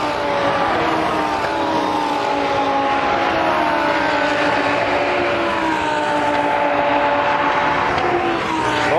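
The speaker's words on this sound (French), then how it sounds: "Là ce sont les Huracan Trofeo qui roulent." Lamborghini Huracan Trofeo race cars lapping the Spa circuit, producing a continuous, fairly distant engine drone whose pitch rises and falls as the cars pass, with no talking.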